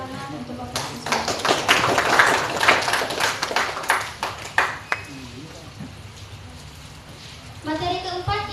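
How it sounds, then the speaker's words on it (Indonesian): Audience applause at a mangrove seminar and training session: a burst of clapping of moderate loudness that builds over several seconds and then fades, with a voice speaking over the end. "Sekali lagi beri tepuk tangan untuk Bapak Siswanto."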